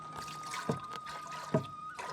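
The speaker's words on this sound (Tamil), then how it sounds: "சட்டிக்குள்ள தண்ணி எடுப்போம் நம்ம கழுவுறதுக்கு" Water is poured into a cooking pot for washing, outdoors in a forest at midnight, with a steady splashing wash broken by two sharp clunks of the pot being handled.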